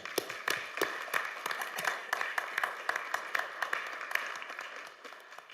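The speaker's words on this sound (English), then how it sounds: "Let's give them a round of applause as they come up." Scattered clapping from a small crowd at a city board meeting, a steady patter of hands with a few sharper claps standing out, moderately close and fading slightly toward the end.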